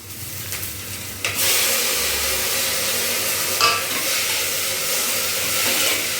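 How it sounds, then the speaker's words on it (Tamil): Onions and tomatoes sauté in a pan for an ivy gourd sundal fry, a steady close sizzle and hiss running throughout, with a brief stir scrape near the start and a louder clink midway, no voices. "வெங்காயம் நல்லா வதங்கிட்டு தக்காளி போட்டுக்கலாம்."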